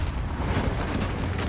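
Airstrike explosion in a video game, a dense close booming rumble that fills the whole short moment with heavy low-end roar and debris-like crackle.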